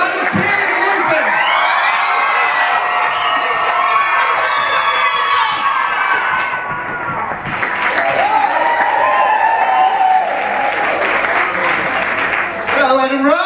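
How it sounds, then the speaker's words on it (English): A comedy show audience of children and adults in Edinburgh erupts in loud, sustained applause mixed with cheering, high-pitched shouts and whoops, a dense roar that holds steady throughout. "Start your cheering and whooping."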